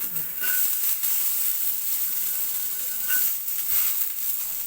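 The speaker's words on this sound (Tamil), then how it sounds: "இதுக்கப்புறம் இந்த பூண்டை போட்டு ஃப்ரை பண்ணி எடுத்துக்கலாம்" Garlic frying in a pan for a Tamil Nadu garlic chutney, giving a steady close hissing sizzle that continues throughout with no pauses.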